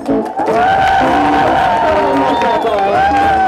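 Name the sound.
audience applauding and cheering for the actors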